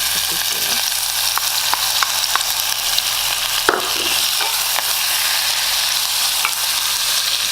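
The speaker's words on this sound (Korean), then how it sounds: "참기름을 두르고 아까 썰어놨던 알타리 김치를 넣어서" Chopped altari kimchi fries in sesame oil with a steady, dense sizzle throughout, broken by occasional clicks and scrapes of stirring.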